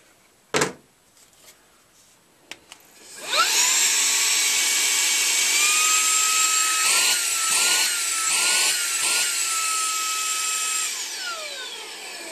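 A powerful portable vacuum used for cleaning crevices while gold prospecting, switched on after a few clicks and running loud and steady with a high whine, its pitch dipping briefly as suction is blocked, before winding down.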